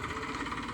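A tractor working a farm field drones with a steady, throbbing engine hum that pulses evenly over a brief moment.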